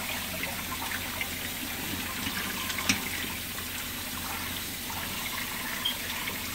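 Tap water runs steadily over rinsed vegetables for bread and butter pickles in a kitchen, a soft continuous splashing hiss with a faint knock partway through.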